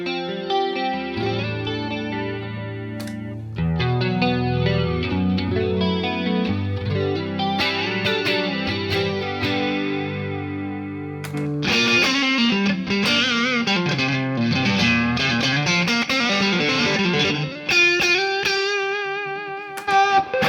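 An electric guitar from a UK boutique builder, Moore Guitars, plays through chorus and distortion effects, moving from clean chords and arpeggios to a brighter, denser overdriven passage, loud and up close with no voices.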